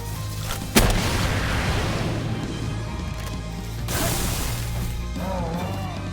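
A rocket launcher fired from atop a huge creature in the video game Palworld: a sharp loud blast near the start, then rumbling impacts and a second explosive burst, with game effects trailing underneath.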